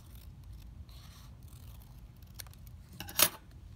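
Scissors snip out small paper shapes for a craft, with faint quiet cutting sounds and one short, sharper snip near the end, close by and alone.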